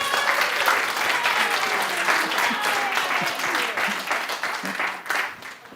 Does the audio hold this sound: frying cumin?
no